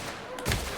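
A single gunshot headshot in The Outer Worlds: a loud, short, sharp crack over a faint noisy background.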